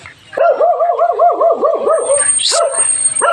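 A dog gives a rapid run of close, loud, wavering yelps and whines, pauses briefly, then yelps again.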